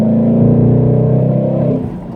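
A 2018 Ford Mustang GT with a Roush axle-back exhaust revs to about 3,000 rpm in third gear, a loud, deep, throaty burble held for about two seconds before easing off.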